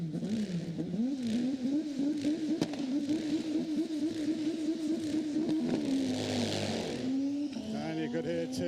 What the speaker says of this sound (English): you could hear Tim really trying to spool up the turbo